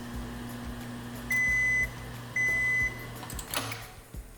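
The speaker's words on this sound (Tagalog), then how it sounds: "nilalagay ko na ito sa microwave oven at sineset ko na yung timer to 45 seconds para ma-melt ito ng tuluyan" Microwave oven set for 45 seconds to melt butter, a low steady hum broken by two long electronic beeps, followed by a few dull clunks near the end.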